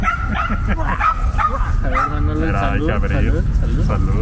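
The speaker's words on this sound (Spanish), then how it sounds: "escuchar perros ahí ladrando fuerte" Dogs bark loudly and repeatedly on a busy evening street in La Condesa, Mexico City, amid heavy background noise and people talking nearby.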